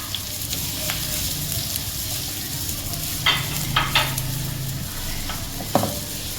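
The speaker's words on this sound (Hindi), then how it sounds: "अब हम डालते हैं इसमें हमारे अनियंस को हम थोड़ा सा सौते करते हैं।" Onions sauté in a pan with a continuous close sizzle and occasional scraping stir strokes, a few sharper clinks standing out near the end.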